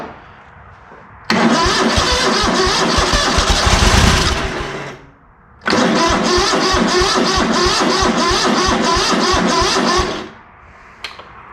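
A ZT200 engine cranks and fires on its own fuel, running loudly and roughly for about three seconds before dying, then catching again and running for roughly four more seconds before cutting out.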